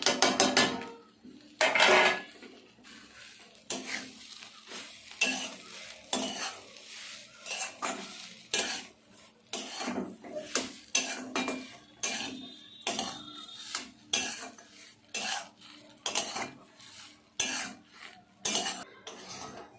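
Chilli and cumin, already fried, being stirred into a besan mixture in a pan for Bengali chop muri, with a steady run of scraping spatula strokes against metal and a light sizzle, close and alone without talk.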